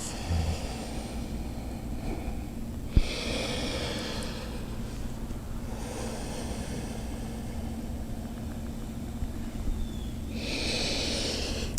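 Slow, deep yoga breaths rise and fall in long, steady rounds, a soft airy rush swelling for several seconds and then easing, with one sharp click partway through and a low, constant room hum underneath.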